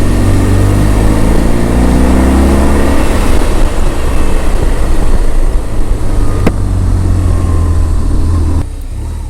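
A motorcycle rolls slowly along a narrow, damp road in New Zealand, its engine a steady, close, low drone with mild shifts in pitch and constant wind rush, easing off near the end.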